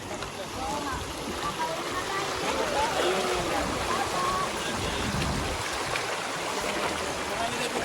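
A shallow stream rushes steadily over rocks along a jungle trail toward Dipalian Falls in General Nakar, Quezon, a close, continuous broadband water wash filling the whole stretch.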